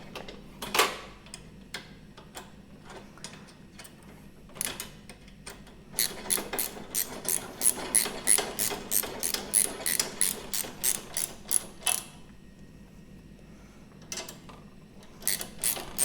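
A ratchet wrench tightening bolts on pannier racks of a 2016-2017 Honda CRF1000L Africa Twin, scattered clicks at first, then a fast run of steady ratcheting clicks, pausing before a few more, close and clear.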